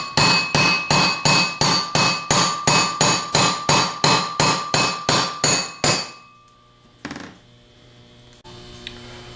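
A hammer taps a rear bushing into place while a 42MT starter is being assembled: a rapid, even run of about twenty sharp metallic strikes, then one isolated knock and a faint hum.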